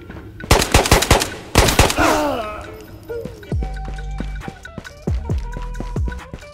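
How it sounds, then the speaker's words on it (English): Rapid bursts of gunfire crackle loudly in the video game Ghosts of Tabor, two quick automatic volleys followed by scattered single shots and clinking, echoing impacts. "Hearing a lot of gunshots."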